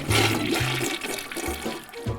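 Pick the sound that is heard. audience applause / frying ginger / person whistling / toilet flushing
toilet flushing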